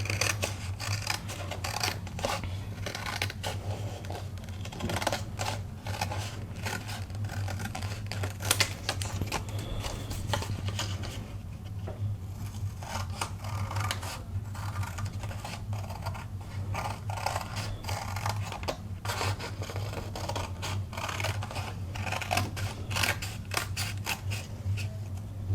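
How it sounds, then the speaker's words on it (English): Scissors cut out a paper perfume bottle along a drawn black line, a steady close series of crisp snips and paper rustles running throughout with no talking. "We're going to cut along our black line."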